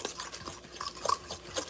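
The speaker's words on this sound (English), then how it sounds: "we're just going to mix that all together. And I'm using a fork" A fork beats cornmeal batter in a bowl, producing quick, faint, wet scraping and clicking strokes in a short close-up burst.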